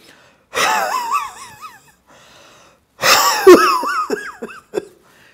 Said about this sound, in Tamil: ஹஃப் பண்ணால் தான் உள்ளே இருக்கிற சளி வெளியே வரும்